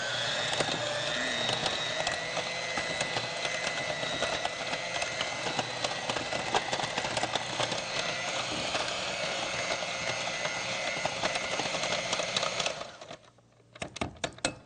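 An electric mixer beats vegan cupcake batter, a loud, steady rattling mechanical whir close by that runs for about thirteen seconds, then stops abruptly.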